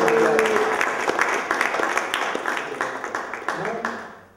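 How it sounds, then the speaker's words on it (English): An audience at a press conference applauds for Steve Bernstein, a burst of clapping that starts strong and gradually thins and fades over about four seconds, with some voices mixed in. "a big round of applause for Steve Bernstein for so much help"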